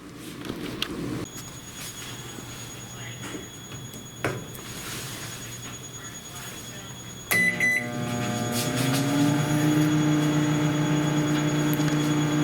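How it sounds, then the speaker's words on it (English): A microwave oven's steady electrical hum drones on, joined partway through by a louder buzzing tone and a high whine as a light bulb inside lights up, close and continuous. "So I'm going to close this microwave, and I'll turn the lights out"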